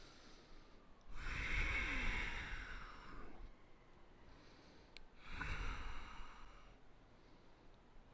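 Two slow, deep breaths taken during a yoga class, each a long, soft airy inhale and exhale, close and fairly quiet, with brief pauses between and no talk.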